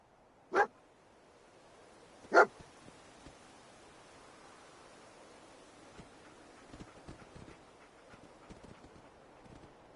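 Two sharp, separated barks from a dog companion in the video game Fallout 4, each loud and brief, followed by quieter ambient game noise with scattered soft taps and rustles.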